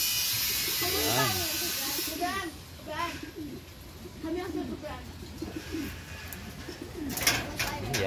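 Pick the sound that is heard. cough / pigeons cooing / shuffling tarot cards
pigeons cooing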